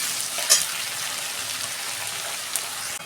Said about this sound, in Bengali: পেঁয়াজটা আমি 2 মিনিট লাল লাল করে ভেজে নেব।